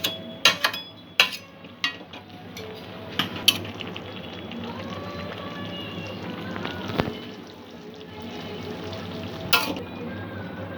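Chicken simmering in a creamy white sauce gravy in a pan, a steady close bubbling sizzle with repeated sharp clinks and scrapes of a spoon against the pan as it is stirred.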